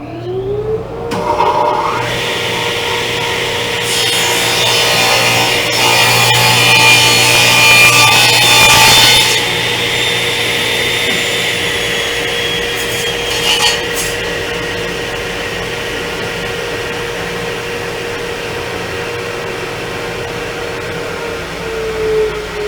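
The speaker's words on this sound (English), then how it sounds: "What I'll do now is do something that I consider more of a normal crosscut" A DeWalt Model 3511 14-inch radial arm saw runs steadily and crosscuts a board at a normal feed rate, its motor drone swelling briefly into a louder, harsher cutting roar before settling back to a steady whine; no one talks.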